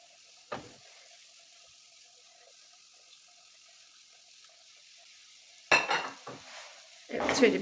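Meatballs dropped into a frying pan with onions give short bursts of close sizzling and a brief pan clatter, separated by a quiet stretch of low background hiss.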